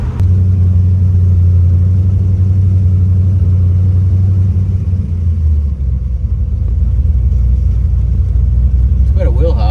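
A 1967 Corvette with an LS3 engine launches hard with wheel hop, making a loud, close, deep rumbling engine roar that lasts throughout and shifts lower partway through.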